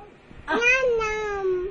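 A voice mimics a cat's meow, one drawn-out, wavering mew rising then slowly falling, close and fairly loud, with no other sound around it.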